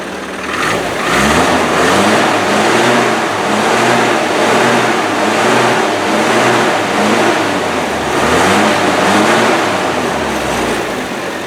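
A Land Rover 90, run for the first time in four years, idles with a rough mechanical rattle and rises into repeated revs that swell and fall in slow cycles, loud and close throughout.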